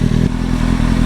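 A Kawasaki ZX6R sport motorcycle on a test ride, its engine giving a loud, steady, close drone with a throbbing low rumble.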